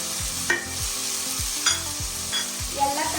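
Carrots, beans and peas stirred in a hot pan for vegetable kurma: a close, steady frying sizzle broken by regular scraping strokes and a few metallic clinks of the spoon.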